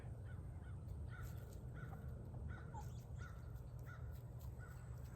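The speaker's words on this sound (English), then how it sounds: "and that is a hawk" A hawk calls high above a farm, with a series of short, evenly spaced cries repeating about every half second to second, moderately distant and clear over a low steady background rumble.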